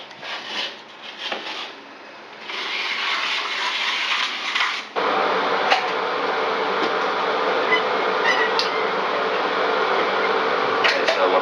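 An angle grinder fitted with a diamond blade cuts through tile backer board, a loud, steady high-pitched grinding whine that starts after a few brief scrapes and carries on close up to the end.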